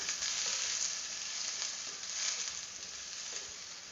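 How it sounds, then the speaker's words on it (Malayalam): Chopped ingredients hit hot coconut oil for a Kerala-style okra theeyal curry, a close, steady, bright sizzle that hisses continuously without pause and with no voices. "എണ്ണ ചൂടാകുമ്പോൾ അരിഞ്ഞു വെച്ചിരിക്കുന്ന കൂട്ടുകൾ ഇതിലേക്ക് ചേർത്ത് കൊടുക്കാം"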